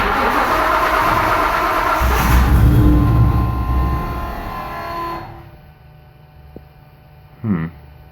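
A 1999 Nissan Frontier's turbocharged engine runs with a loud, steady rumble and hum, then cuts out, leaving a quiet stretch before a short, sharp burst of cranking near the end.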